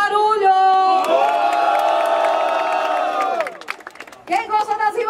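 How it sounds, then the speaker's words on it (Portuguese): A crowd at a women's freestyle rap battle final cheers loudly. A long, sustained shout or whoop is followed by a brief dip, then another burst of shouting and cheering. "Quem gostou das rimas da Angel, faz barulho!"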